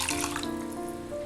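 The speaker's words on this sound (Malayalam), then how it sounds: "ഞാനിത് ബൗൾ കഴുകി ഒഴിക്കുന്നത്" Water from rinsing a bowl pours into a pan for a chicken curry with kudampuli, a short continuous splashing stream, close and steady, with no voices.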